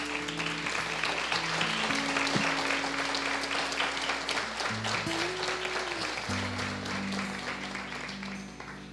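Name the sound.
audience applause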